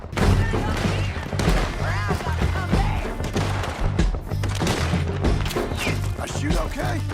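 Gunfire erupts during a shootout in Red Dead Redemption 2, rapid overlapping shots and impacts crackling through a dense, loud mix under shouted voices and background score, with bursts recurring across the whole stretch.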